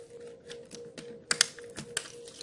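Quiet plastic clicks and light taps come in short, uneven clusters as a laptop keyboard's two retaining clips are released, with a couple of sharper snaps near the end over a faint steady hum.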